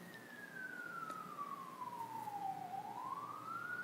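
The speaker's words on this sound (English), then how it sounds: "Blessings to the siren." An emergency vehicle siren wails faintly in the distance, its single tone gliding slowly down, then starting back up, over a quiet indoor background.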